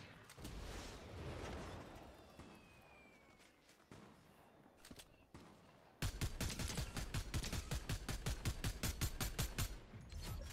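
Gunfire in the video game Fortnite, first scattered shots and footsteps over ambient noise, then a loud, rapid burst of automatic fire with evenly spaced cracks sustained to the end.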